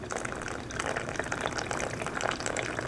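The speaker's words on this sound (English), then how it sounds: "slowly pour it over the grains to this filter, and get a hot cup of coffee" Hot water from a portable stove-heated kettle poured slowly over coffee grounds in a filter, a soft continuous trickling and splashing close by, with no voices.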